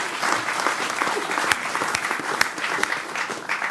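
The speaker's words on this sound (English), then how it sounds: "Let's have a round of applause for this wonderful panel." An audience applauds a panel of speakers at a televised discussion event, a steady, dense clapping of a sizeable crowd with a few sharper claps standing out, continuous throughout.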